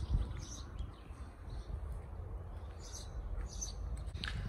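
Small birds chirp among huge pine trees in a park, a few short high tweets spaced apart over a soft, steady outdoor background.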